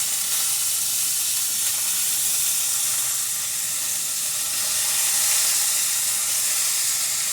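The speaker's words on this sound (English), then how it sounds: "Now these guys are ready to go in the pan." Chicken wings frying in a skillet, a steady bright sizzle and hiss of hot oil that holds evenly throughout without pause, close and fairly loud, with no one speaking over it.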